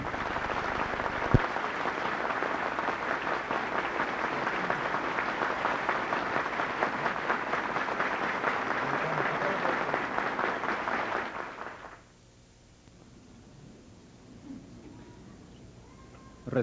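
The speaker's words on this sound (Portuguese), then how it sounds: "rendamos neste instante calorosos aplausos aos nossos formados" Warm applause from a ceremony audience honoring theology graduates at a 1993 IAE graduation, sustained and dense for about twelve seconds before cutting off to a quiet, hollow room tone.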